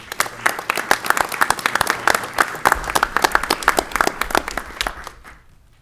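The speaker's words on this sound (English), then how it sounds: "These are our National Merit Scholars for the class of 2018. Let's give them a round of applause." Applause for National Merit Scholars at a school board meeting, a modest group of hands clapping in a brisk, uneven patter before tapering off abruptly near the end.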